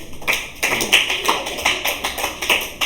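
A classroom of students claps for everyone, a brisk run of sharp taps and slaps with uneven rhythm, fairly close and lively, with no talking over it.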